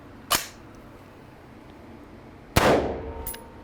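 Three rifle rounds (soft point, full metal jacket, green tip) strike an AR-15 level bulletproof plate on a test range; two sharp, loud cracks with clanging ring-off are spaced about two seconds apart, the second with a longer decaying tail.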